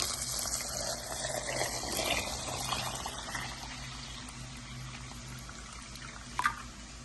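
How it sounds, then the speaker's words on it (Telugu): Water poured into a container of soaked lentils for high-protein dosa batter, a steady splashing gush that gradually eases off, ending with a brief clink near the end. "ఇప్పుడు నీళ్ళు వేసి నానబెట్టేస్తా."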